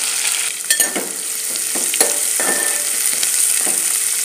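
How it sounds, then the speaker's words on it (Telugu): Loud, steady sizzling of onions and spices frying in a pan, with a spatula scraping and stirring at irregular intervals; no voices. "బాగా వేయించుకోవాలండి."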